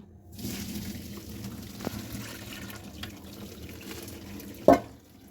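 Water bubbling and splashing in a pot during home noodle cooking with vegetables, a steady watery wash with a brief knock near the start and a sharp clatter near the end, fairly quiet with no talking.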